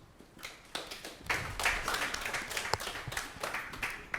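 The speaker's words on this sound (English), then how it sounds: "Clap for him." A small group clapping for a newly chosen head of house on a royalty reality TV show: quiet, uneven handclaps that build after a soft start and then carry on steadily.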